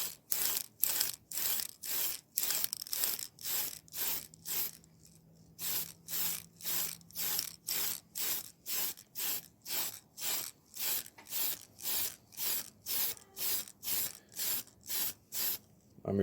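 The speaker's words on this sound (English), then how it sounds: "When you start spraying, you want to start before the mini and then have it pass" Primer sprayed from an aerosol can onto a miniature figure in short, regular bursts, roughly two per second, each a sharp hissing puff separated by brief silences, with one longer pause near the start; close and fairly loud.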